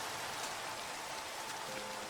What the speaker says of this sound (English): as the rain comes down again